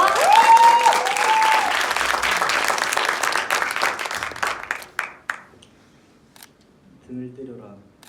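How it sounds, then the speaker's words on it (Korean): Audience applause fills a room at a Korean book talk with student authors, a dense steady clapping for about five seconds that then fades out, followed by a few quieter sounds near the end. "박수 한번 쳐주시겠어요?"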